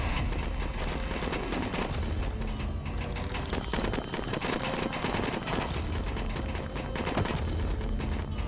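Sustained, heavy automatic weapon fire from a ramping-up gun in the video game Bartlow's Dread Machine, a dense continuous rattle filling the whole stretch at steady loudness with no pauses and no talk.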